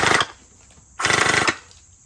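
Two short loud bursts of rapid mechanical firing from a Nerf gel blaster shooting gel balls at very high rate, each burst about a quarter to half second, with a brief quiet gap between.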